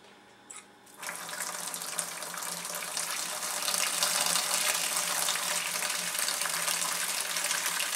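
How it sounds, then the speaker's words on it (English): Homebrewed American amber beer streams from a spigot through a sanitized filter into sugar, a steady splashing pour that starts after a brief click and continues evenly, close and moderately quiet. "use a sanitized filter to spigot out my beer into the sugar"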